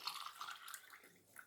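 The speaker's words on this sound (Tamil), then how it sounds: "எவ்வளோ தண்ணி வேணுமோ அவ்வளோ ஊற்றிக்கலாம்" Water pours into a homemade no-cook nellikai (amla) juice concentrate, a soft, brief splash and trickle heard close up and alone.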